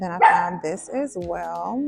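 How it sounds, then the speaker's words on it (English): A pet dog barks indoors at home in a few short bursts, mixed under someone talking close by. "That's my dog barking because she hears the ice dropping in the refrigerator."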